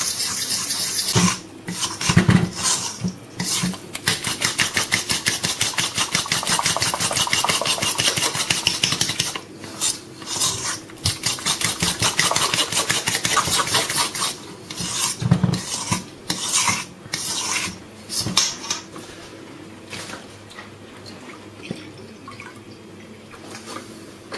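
Blini batter of flour, oil and milk is stirred steadily in a bowl, a continuous rasping, scraping rhythm of whisk or spoon against the sides, close and fairly loud with brief pauses.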